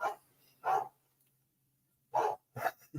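A dog barks loudly in a few sharp bursts: a single bark, then a pause of about a second and a half, then a quick pair of barks close together. No one speaks.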